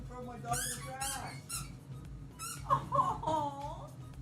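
A squeaky dog toy gives several sharp, high squeaks in irregular bursts, close by, mixed with people talking and what may be a dog's whines.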